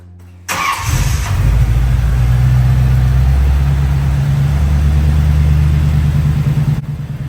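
A 1993 Chevrolet Corvette C4, just fitted with a new battery, cranks briefly and fires up, then settles into a loud, steady, rumbling idle heard close up for several seconds with no one talking.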